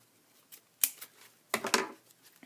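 Scissors snipping through the stems of a silk flower bridal bouquet, a few crisp, close cuts in short bursts against a quiet background.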